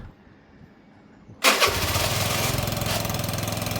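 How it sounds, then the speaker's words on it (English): Quiet background, then a rebuilt 125cc Piaggio scooter engine abruptly starts and settles into a steady, rapid idle putter close by. "let's fire it, and we'll let it idle for 5 to 10"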